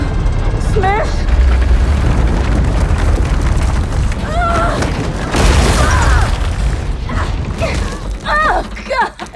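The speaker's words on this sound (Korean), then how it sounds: "Fire the ion bomb!" An ion bomb explodes in the sci-fi film Atlas as a loud, sustained rumbling boom with creaking mechanical noise and a surge in the middle, mixed with electronic chirps and voice-like sounds.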